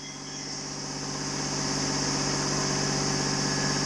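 A 2018 Hyundai Grand i10 engine running close by, the steady hum rising slightly and holding at a higher pitch as the car is revved, with no voices.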